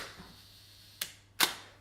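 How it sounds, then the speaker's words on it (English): A Hasselblad camera shutter release: a soft click followed by a sharper, louder mechanical snap, both close and quiet against faint room tone, with no speech. "So listen to the shutter sound of my Hasselblad."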